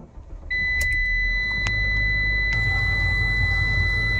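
A 2016 Ram ProMaster City van starts up: a brief interior cranking burst followed by a steady, close engine idle with a constant hum and faint high-pitched tones, no talking.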